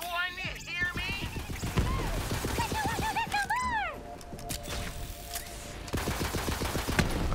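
Rapid bursts of video game gunfire from Borderlands (Moxxi's Heist of the Handsome Jackpot) crackle steadily, mixed with whooshing effects and pitched electronic tones, while voices talk over the action.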